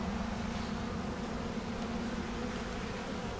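Honeybees buzz around a queen cell inside a hive, a steady close drone holding at an even level throughout with no voices.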